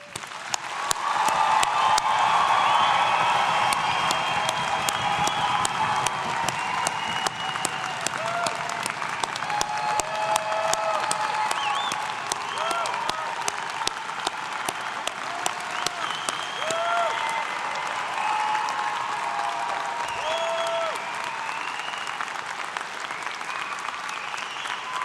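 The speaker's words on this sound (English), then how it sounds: "let's give thunderous applause again, really thunderous, to celebrate the graduates" Sustained applause from a large audience at a university summer convocation, dense and steady for the full stretch, loud and enveloping, thinning slightly toward the end.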